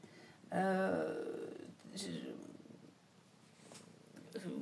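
A house cat purrs close by, a soft steady rumble that blends with someone talking over it.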